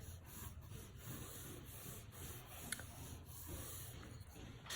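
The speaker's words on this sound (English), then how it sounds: "I'm just gonna try to very carefully just draw in my circle, just freehand" A pencil draws a freehand circle on paper in a very faint, steady scratchy rub, heard close up and with no talking.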